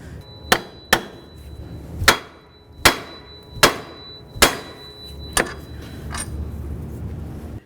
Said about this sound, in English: continue on by breaking the outer tie rod end free from the knuckle